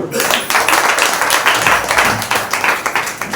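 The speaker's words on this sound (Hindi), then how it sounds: "एक जोरदार ताली बजाइए" Congregation at a Wednesday church service clapping loudly together, a dense, rhythmic burst of many hands close by, with voices faintly underneath.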